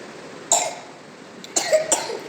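A child coughs three times at close range, one sharp cough and then two quick ones about a second later, against a quiet indoor background with no talking.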